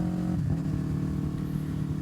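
Yamaha YZF-R3 third-generation motorcycle fitted with a full exhaust, idling or revving nearby with a steady, throaty low drone that dips briefly and then holds, no talk over it.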